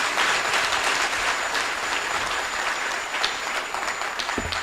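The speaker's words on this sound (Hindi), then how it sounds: "तालियां बजा दीजिए आप लोग।" Audience applause fills a conference panel hall on civil services and bureaucracy, a dense, steady wash of many hands clapping at even loudness throughout, with no talk over it.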